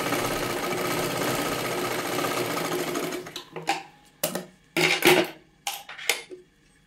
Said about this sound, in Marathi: अजून एक डबल शिलाई मारून घ्या त्याच्यावरती.